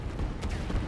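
A brief, muffled rumble of artillery fire from the strategy game Line War, a short burst of booms with no voices.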